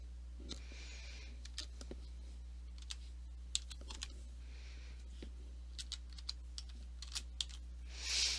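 Typing a username and password on a computer keyboard, with scattered clicks and short bursts of keystrokes over a steady low hum, fairly quiet and close, with no talking.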